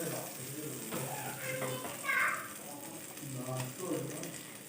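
Ground spice paste sizzles and fries in a pan for a biryani dish, a steady crackling hiss with occasional stirring scrapes and brief louder bursts, while a voice talks over it.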